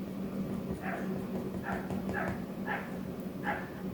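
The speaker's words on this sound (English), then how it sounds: "Now we've got a neighbour's dog that's yapping." A neighbour's dog yaps in the distance, five or six faint, evenly spaced yips over a steady low background hum.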